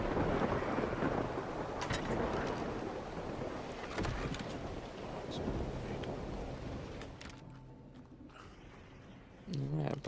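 A thunderstorm in the video game Ark rolls on with a heavy, sustained rumble and rain-like wash that fades toward the end, where a few sharp, brief sounds break through.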